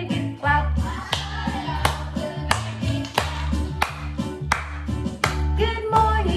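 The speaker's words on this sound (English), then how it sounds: "I'll start it all with a big clap." Steady hand claps keep a regular beat through a preschool circle-time good-morning song, with sharp evenly spaced claps over the bouncy music backing.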